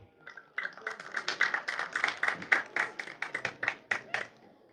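An audience claps at a sermon: a brief early spatter of hands, then many people applauding together in uneven bursts of sharp claps that swell and fade over a few seconds.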